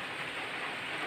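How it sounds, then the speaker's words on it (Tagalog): Light drizzle falls in Ilagan, Isabela, a steady, even hiss with no other sounds on top. "ambon na naman ang panahon"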